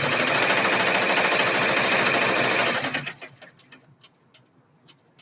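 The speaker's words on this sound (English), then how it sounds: "I'm just stitching it down This is the tack down stitch." An embroidery machine runs a tack-down stitch in a fast, steady, loud mechanical chatter for about three seconds, then stops, leaving faint clicks and light handling noises.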